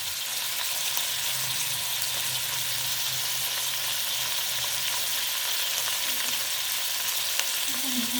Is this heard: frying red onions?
yes